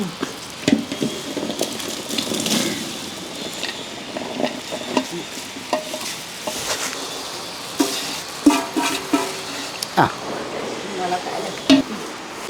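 Gooseberries tossed into chili powder and spices frying in oil for Indian gooseberry pickle, giving a steady close sizzle broken by scraping stirs and occasional sharp clinks of a spoon against the pan, with scattered brief voice sounds.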